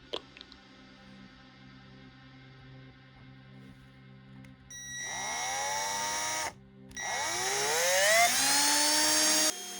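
Power drill boring holes in a metal upper bracket for an open-frame PC build. It starts quietly, then spins up loud and close with a rising whine, pauses briefly and bites in again, cutting steadily to the end.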